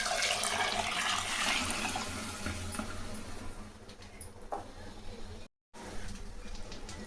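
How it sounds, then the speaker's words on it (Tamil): Water poured into a pot of rice for tomato dal rice, a soft splashing stream at the start that fades into quieter trickling, with a brief gap near the end. "5 கப்பு தண்ணி ஊற்றிக்கலாம்."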